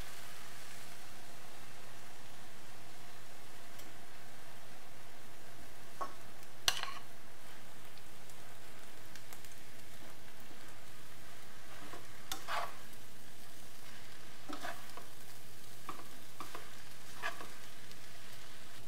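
Japchae noodles stir-fry in a pan with a faint, steady sizzle under a low background hum, broken by a few light scrapes and taps from the utensil.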